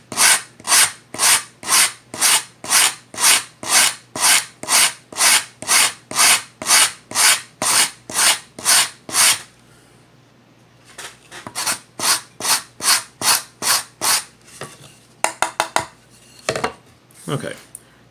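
Hand sanding on a wooden Native American flute, heard as a long run of even, rhythmic rasping strokes up close, then a pause and shorter quicker strokes with some handling knocks.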